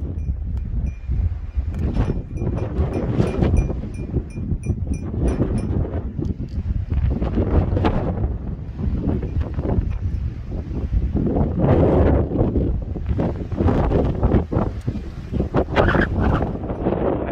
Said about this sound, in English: obviously it's windy up here